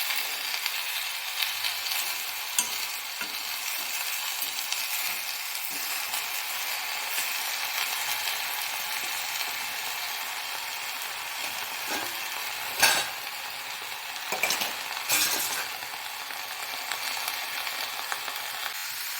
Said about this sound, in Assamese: এতিয়া গেছটো জ্বলাই কেৰাহীখন গৰম হ'বলৈ দি কাটি থোৱা কচুখিনি কেৰাহীখনত দি দিছোঁ।